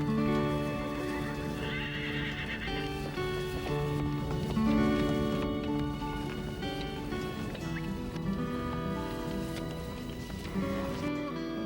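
Horses carry cowboys on a leisurely autumn ride toward a ranch near Cochrane. Repeated neighs and whinnies sound over a steady clip-clop of hooves, close and continuous, with no talking.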